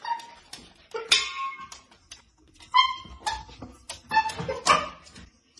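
A chihuahua lets out a string of sharp, high yips and whimpering barks in irregular bursts, close and fairly loud, with short quiet gaps between them.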